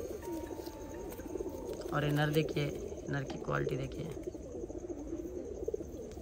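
Pigeons coo in a loft, several soft throaty coos rising around the middle, while someone talks close by over them.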